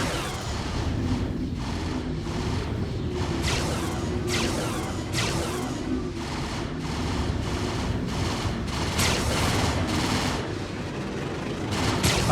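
Ship cannons fire in the space-combat video game Star Citizen as a dense, continuous barrage of sharp repeated shots and bursts, loud and steady for the whole stretch, with no talking over it.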